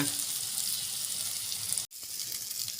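Egg frying in a pan for Bengali-style fried rice gives a steady, close crackling sizzle that fills the clip, with one brief dropout to silence near the end before the sizzle resumes.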